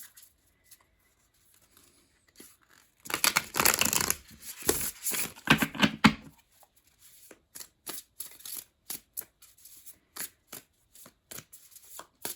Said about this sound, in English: Give him one more good shuffle here.